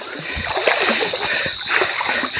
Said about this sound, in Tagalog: dito na tayo dumaan sa may sapa maganda palang daanan dito sa sapa